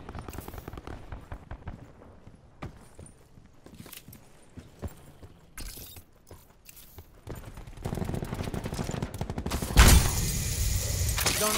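Gunfire in Call of Duty Black Ops 4 Blackout: scattered sharp shots crack at a distance, then a louder, denser burst of rapid fire and noise takes over near the end.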